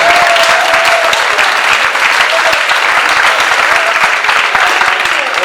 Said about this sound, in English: we might be applauding now